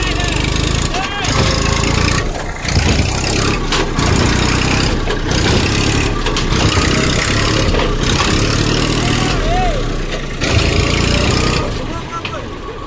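A tractor's engine runs steadily while the tractor sits stuck in a muddy, sticky farm field. The loud, rough drone continues almost unbroken, with short dips and occasional brief voices nearby.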